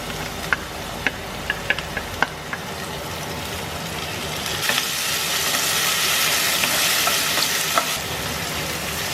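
Pork sizzles and fries steadily in hot oil with garlic, onion and tomato, with sharp clinks of a utensil stirring the pan against the constant crackle.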